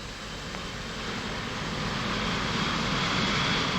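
Engine roar of the Gloster prototype jet aircraft from 1945, a broad steady rushing whine that slowly swells louder, with no voices over it.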